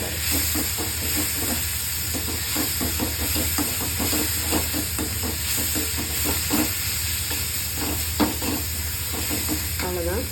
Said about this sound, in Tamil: கடுகு போடுறதோடு போட்டிங்கன்னா நல்லா வறுத்துடும்